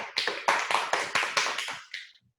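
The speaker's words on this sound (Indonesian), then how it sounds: "Tepuk tangan semuanya." Online high-school quiz contest team receives a short burst of applause: dense overlapping claps, several people clapping together, steady for about two seconds before stopping abruptly, no talk over it.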